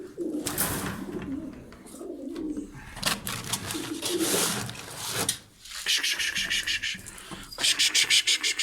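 Pet pigeons or doves coo and scratch about close by while they are given feed, with shuffling and pecking on wood in between.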